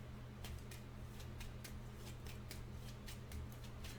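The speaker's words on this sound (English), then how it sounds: "I'm going to shuffle this again" A deck of trading cards is riffle-shuffled up close, with a quick run of crisp, repeated flutters and snaps over a steady low hum, no talking.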